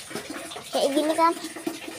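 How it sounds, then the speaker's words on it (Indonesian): Running water splashing into a tub (bak) as it is washed, a steady faucet stream with sloshing, and a voice speaking over it. "Ini baknya saya cuci dulu"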